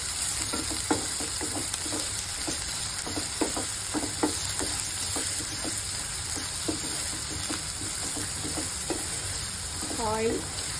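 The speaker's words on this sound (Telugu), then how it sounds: "ఇవి గోల్డెన్ కలర్లో వచ్చే వరకు ఫ్రై చేసుకుని" Onions and chillies fry in hot oil with a loud, continuous sizzle, broken by regular stirring strokes scraping the pan up close; a brief voice sounds near the end.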